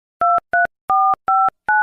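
A series of five short electronic telephone tones beeps in quick succession, loud and clean with brief gaps of silence between them.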